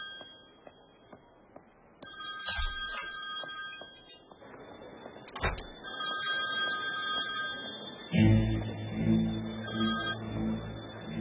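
A phone ringtone chimes in a repeating electronic melody, starting quietly and then ringing loudly and clearly before stopping as the call is answered.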